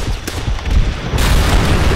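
Gunfire from Call of Duty: World at War, a quick burst of booming shots followed by dense battlefield noise and explosions, loud and close with no talk.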